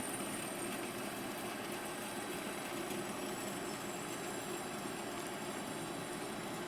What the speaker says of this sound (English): As you can hear, it's making a chatter-free cut, and it's producing nice chips.